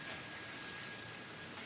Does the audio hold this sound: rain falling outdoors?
yes